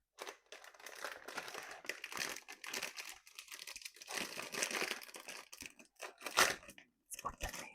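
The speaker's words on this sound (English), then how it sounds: "get all this plastic sound out of the way" Plastic packaging crinkles and crackles loudly and continuously in a kitchen while ingredients for potato and leek soup are unwrapped, with brief pauses and a few sharper crunches near the end.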